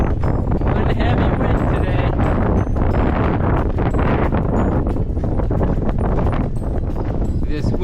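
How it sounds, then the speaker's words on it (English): A heavy crosswind on a bicycle tour on a hot, sunny day roars into the microphone as constant loud buffeting, with rustling gusts throughout. "We have a heavy wind hitting us at 9 o'clock"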